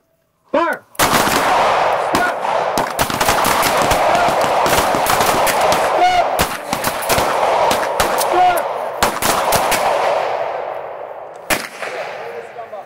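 Rapid handgun shots during a close-retention shooting drill at a Nashville, Tennessee training session: a string of loud, sharp reports fired at close range in quick, irregular bursts over a sustained, reverberant din.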